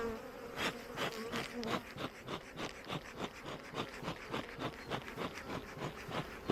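Honeybees swarm around an open hive in an apiary, their loud buzzing rising and falling in quick, pulsing waves as they fly close, with no voices heard.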